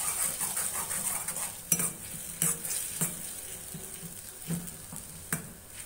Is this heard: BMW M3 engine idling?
no